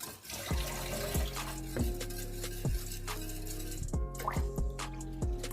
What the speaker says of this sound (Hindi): और इसमें 1 गिलास पानी का और ऐड करूंगी